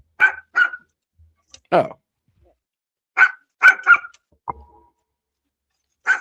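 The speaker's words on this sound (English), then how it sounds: "Sorry about the barking dog in the back." A dog barks in short sharp bursts, several scattered yelps and woofs with gaps of quiet between, fairly close and loud.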